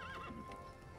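A horse whinnies briefly in a LEGO Movie video game, a short wavering neigh over a faint background with a steady hum.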